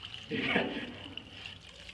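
Water is poured onto a model house built of sand and rock, a brief splashing gush that rises quickly, then trickles and fades over a couple of seconds at close range.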